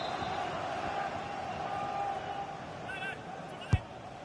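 Stadium crowd noise in a football video game during a run of corner kicks, a steady broad roar underneath commentary-like talk, with a brief sharp thump near the end.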